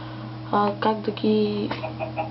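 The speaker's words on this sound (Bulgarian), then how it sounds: "Да, имам прекалено много кокошки." Several short clucking Minecraft chicken sounds in quick succession over a constant low electronic hum, close and clear.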